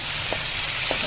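Beef cubes sizzling as they go into a hot pan, a steady loud hiss with a couple of brief soft stirring knocks, no voices.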